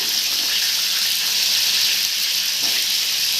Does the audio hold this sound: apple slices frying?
yes